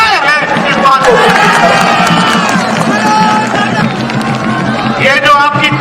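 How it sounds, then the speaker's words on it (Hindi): A large political rally crowd in West Bengal claps and roars continuously and loudly, with someone speaker's amplified voice carrying over the dense cheering throughout. "ये जो आपकी तालियां हैं, ये जो आपकी गड़गड़ाहट है"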